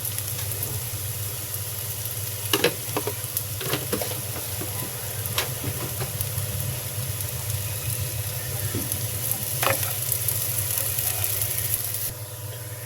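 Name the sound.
frying pulao rice in a pan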